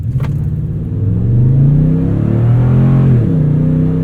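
A 2020 Toyota Tundra TRD Pro CrewMax with its 5.7L V8 accelerates hard under traction control holding back wheel spin, the engine note rising and swelling loudly as it revs through a gear, heard alone without talk.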